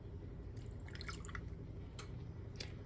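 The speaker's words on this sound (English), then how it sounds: "So I have a shot of orange juice that I'm just gonna pour in here." Orange juice pours from a shot glass into a glass with a few faint, scattered drips and small splashes over a low, steady room hum.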